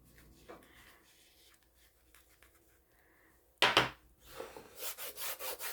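Surface wax is rubbed into the grooves of a wooden sign with quiet scuffing at first, then a sharp louder scrape and a run of rhythmic rubbing strokes near the end.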